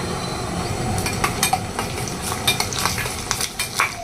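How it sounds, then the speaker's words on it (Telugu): Five or six dried red chillies and a spoonful of cumin crackle in hot oil for a tempering, a loud close sizzle with sharp spoon-on-pan clinks and scrapes from stirring. "ఇదిగోండి ఆయిల్ వేడైంది ఇప్పుడు ఒక ఐదారు ఎండుమిరపకాయలు వేయాలి ఇంకొక స్పూన్ జీలకర్ర"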